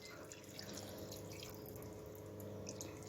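Water pours steadily into a baking pan, a faint, continuous trickling and splashing stream from start to finish with no talk.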